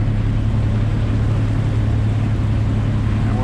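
Steady wind roars over a sailboat at sea with a head sail up and whitecaps around, a continuous low rushing broadband noise without pause and no talking.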